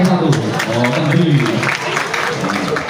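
Audience applause at a school orientation event, dense clapping from a seated crowd held steady for a few seconds with voices murmuring underneath.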